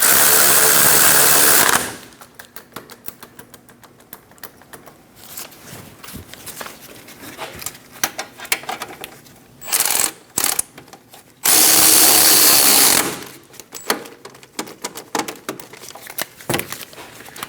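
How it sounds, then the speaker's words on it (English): Power tool running in loud bursts, a sustained whir at the start and another near the end with shorter buzzing pulses between, while caliper bolts are snugged down on a 2008-2015 Scion xB during a front wheel bearing and hub replacement. "snug down the bolts."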